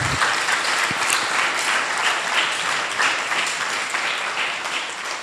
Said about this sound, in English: A big round of applause to all of them.